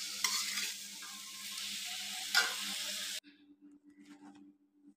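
A loud, close sizzle of food frying in a pan fills the first three seconds, with a couple of sharp spits, then stops abruptly, leaving faint low hum and light clinks.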